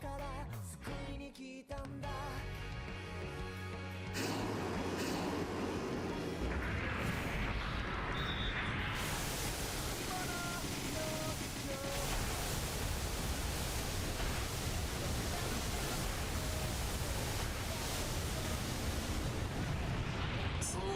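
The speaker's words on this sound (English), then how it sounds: "That was a lot of missiles." Missile barrage explosions in the Super Robot Wars 30 video game form a loud, dense, continuous roar of blasts and rumbling that fills the whole stretch after a quieter opening with music.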